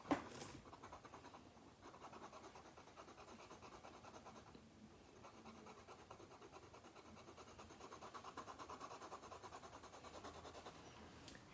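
Colored pencil shading on paper: a steady, close, quiet scratching and rubbing of the lead across the sheet, continuous strokes with no talking.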